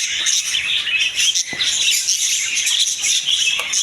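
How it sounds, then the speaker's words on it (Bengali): Budgerigars of many colour varieties, including albino and spangle types, chirp and chatter continuously in a pet bird shop at Kashinathpur bazar, a dense, busy flock of bright tweets with no talk over it. "সব ধরনের বাজরিকা পাখি এখানে পেয়ে যাবেন"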